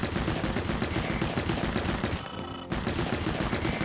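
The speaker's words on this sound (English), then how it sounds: "They made Manat Legs sound absolutely fantastic in this game" The Man-at-Legs boss in Pikmin 4, a walking mech, fires a relentless, dense rapid-fire barrage, loud and continuous, broken only by a brief dip near the end before resuming.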